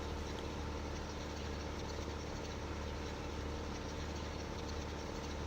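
A potato harvester engine runs in Farming Simulator 15, a steady, unbroken droning rumble that stays constant throughout with no voices.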